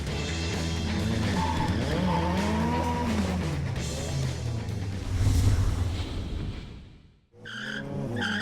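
Drift cars at a British Drift Championship round at Norfolk Arena roar and skid through the transition into a corner, engines screaming with rising and falling pitch over sustained tire squeal, loud and continuous, then a sharp cut to another burst of engine noise.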